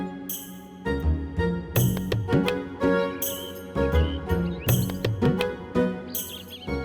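Bright, high chirps of birds repeat in regular bursts over a rhythmic, tinkling musical backing in an animated Hanuman cartoon.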